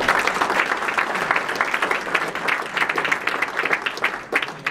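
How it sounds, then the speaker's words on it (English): An audience gives a round of applause at a presentation, producing dense, steady clapping close by for nearly five seconds that thins slightly toward the end. "let's give them a round of applause."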